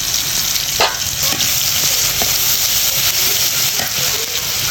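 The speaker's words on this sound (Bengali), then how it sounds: "এবার আমরা রান্না করার জন্য কড়াইতে পরিমাণ মতন তেল দিয়ে বাটা মশলা দিয়ে দিতে হবে" Ground spice paste sizzles and spits in hot oil in a wok, with a dense steady crackle broken by a few sharper pops and faint stirring clicks.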